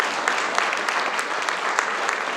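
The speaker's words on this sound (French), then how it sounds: "Tu mérites une bonne main d'applaudissements." A round of audience applause for a police chief at a community event, brisk, even clapping from a gathered crowd, steady and fairly close throughout.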